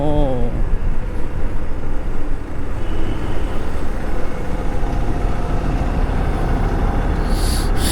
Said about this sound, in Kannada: ಏನೋ ರೋಡ್ ಚೆನ್ನಾಗಿದೆ ಅಂತ ಬಂದರೆ ಮತ್ತೆ ಟ್ರಾಫಿಕ್ಕು.